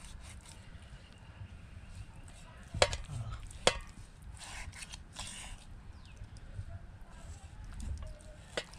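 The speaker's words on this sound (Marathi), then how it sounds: "आता बघूया आपण त्याला असं चिरे मारून घ्यायचं" Knife scoring cuts into washed chicken for tandoori, a few sharp slicing clicks and scraping strokes at close range, sparse and fairly quiet with a faint voice in the background.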